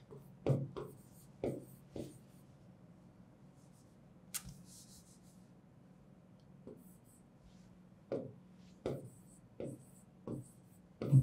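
Pen writing on paper during an essay-writing lesson, heard as scattered short scratchy strokes, some fairly close and others soft, with brief pauses between them and a low steady background hum.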